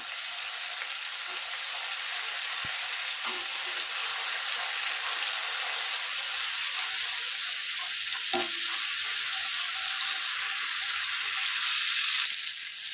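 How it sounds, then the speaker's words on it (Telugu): Ginger garlic paste sizzling steadily in hot oil for a curd okra curry, a loud, continuous hiss with no pauses and a few faint clinks of a utensil partway through. "అల్లం వెల్లుల్లి పేస్ట్ బాగా ఫ్రై చేసుకోవాలి చూడండి ఆయిల్లో"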